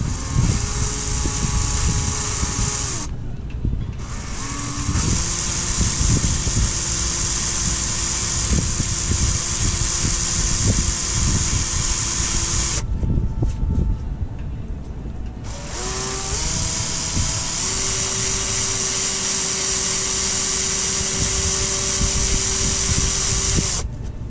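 A power drill bores into fiberglass during a Nova Lift install, whining steadily with a grinding edge, close and loud, stopping briefly twice before spinning up again.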